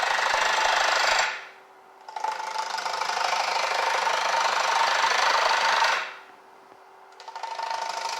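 A wood lathe spinning a turned wooden bowl while it is hollowed out: a steady, bright motor hum with scraping cut noise that stops twice for a moment and then starts again, close and fairly loud.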